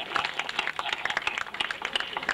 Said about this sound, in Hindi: भरपूर तालियां बजाइए ना डॉक्टर साहब के लिए